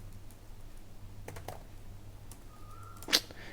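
Faint, sparse keystrokes on a computer keyboard while JavaScript code is typed, a few scattered taps over a steady low hum, then one louder click near the end, with no talking.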